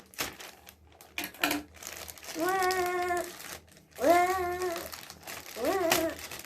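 A cardboard package box is cut open with scissors, giving close crinkling, rustling and tapping of packaging while voices talk intermittently over it.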